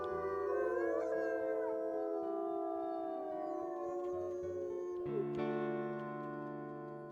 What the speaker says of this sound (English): Harry's has a howl a lot like Ruby's howl